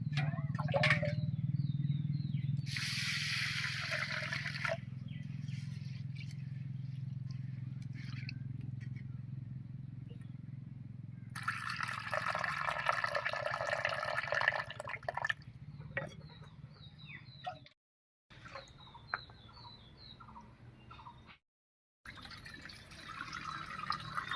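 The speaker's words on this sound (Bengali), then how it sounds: "সাবুটা প্রথমে পরিষ্কার করে ধুয়ে নেবো" Sago pearls are rinsed in water in a bowl, with swishing, sloshing and splashing bursts between quieter stretches, close by.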